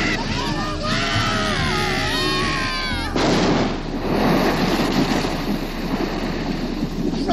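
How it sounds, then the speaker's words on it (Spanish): Voices shout and cry out, then a single sharp gunshot bursts out, followed by a noisy, rumbling wash of sound. "¡Es un disparo! ¡Lo ha matado!"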